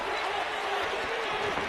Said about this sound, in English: The crowd here becoming more animated.